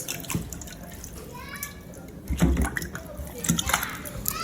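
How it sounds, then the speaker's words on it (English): Cow head meat being washed by hand in a pot of water, with splashing and dripping sounds in short bursts, close and moderately loud amid background household noise and faint children's voices. "So here I'm washing the cow head."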